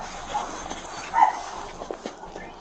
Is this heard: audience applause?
no